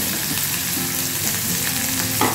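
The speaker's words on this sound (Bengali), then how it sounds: "দিয়ে দিচ্ছি একটা চেরা কাঁচা লঙ্কা, দিয়ে একটু ভাজবো।" A slit green chili and half an onion sizzle in hot oil in a pan alongside puti fish, giving a loud, continuous frying crackle up close with no talk.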